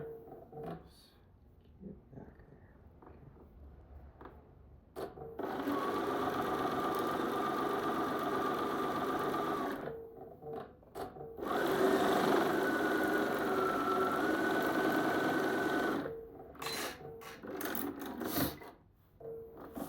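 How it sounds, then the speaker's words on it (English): A sewing machine stitches a quarter-inch seam on a star-block quilt piece in two long, steady bursts of close, buzzing motor noise separated by a brief pause, with light handling sounds between them. "now we're back at the machine and we're sewing our 1/4 inch seam"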